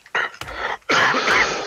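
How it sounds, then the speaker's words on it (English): A video game character in The Forest coughs: a short hacking burst, then a longer harsh cough, close and loud with no talk over it. "How dare you make us cough?"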